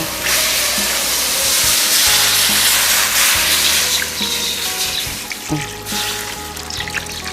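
Water pours in a loud, continuous rush into a pot where fish sizzles in Lao home cooking, then tapers into softer bubbling and hiss.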